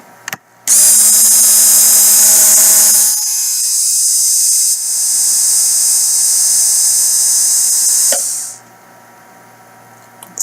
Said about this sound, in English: So that's a stacker motor.